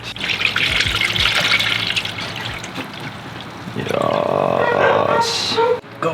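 Coolant glugs and trickles through a funnel into a 2005 Subaru STI, a steady close liquid rush that swells louder partway through, with voices faintly underneath.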